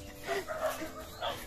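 A dog near a rural house gives a few short, moderately loud yips and barks in an uneven rhythm, with a person's voice mixed in.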